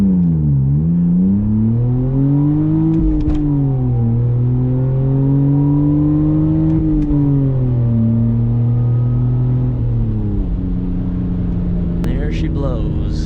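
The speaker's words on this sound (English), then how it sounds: "we're gonna give you guys a 0 to 60 now with the old clutch, just to show you guys how much it slips" A BMW E46 with a worn, slipping clutch is accelerated hard from 0 to 60, its engine rising and falling through several gear pulls with loud, close droning revs and whirring drivetrain noise.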